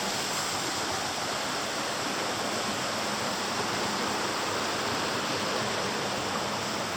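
Water of the Doriga river in Asturias rushing steadily under a bridge, a dense broadband wash that stays even and unbroken throughout, with no voices over it.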